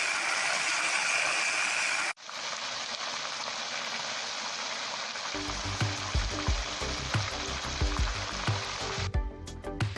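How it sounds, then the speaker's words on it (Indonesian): Steady, dense sizzling of tempeh frying in hot oil, loud and close, with a brief pause before the crackling resumes and light clatter of stirring. "balik tempe dan goreng hingga warnanya kuning kecoklatan"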